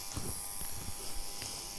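A vacuum cleaner runs steadily while a room is tidied, giving a continuous high-pitched motor whine with a broad airy hiss, plus a few low thumps and knocks as the nozzle moves about.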